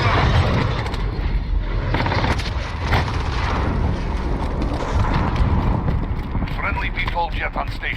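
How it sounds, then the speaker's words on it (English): A Harrier VTOL jet roars overhead in a military shooter game, a loud, sustained engine rush that holds steady throughout amid battlefield noise, with brief radio-style voice chatter near the end. "Friendly VTOL jet on station"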